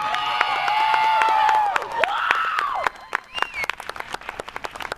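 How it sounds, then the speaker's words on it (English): Applause and cheering from the audience at a 2021 graduation ceremony, with whoops and high shouted voices over the clapping early on, then thinning into scattered individual claps that fade out. "That was the part where you're supposed to clap at."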